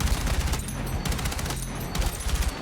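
An M4A1 rifle firing in a Battlefield video game, loud rapid bursts of automatic fire with short pauses between volleys, close and dense with no talking.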